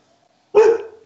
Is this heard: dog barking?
yes